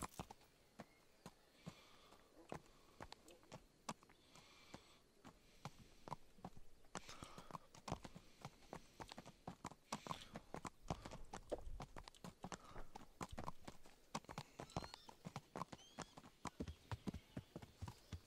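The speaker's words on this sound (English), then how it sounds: "we'll mount our horse" A horse's hooves clip-clop steadily in Kingdom Come: Deliverance, quieter at first, then louder and more insistent from about the midpoint in a quick, even gait, with no talking.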